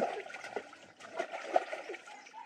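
Dirty water draining from a tank through an opened valve at a bird-breeding facility: a soft, steady trickle with irregular light splashes and splatters, fairly quiet and close, with no talking.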